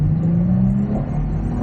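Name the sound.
Toyota Prius 1800cc hybrid accelerating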